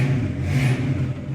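A 1972 Ford Mustang Mach 1 engine running indoors in a building, a loud close rumbling idle with a brief rise in revs, deep and steady throughout the short moment.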